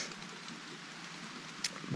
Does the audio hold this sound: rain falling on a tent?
yes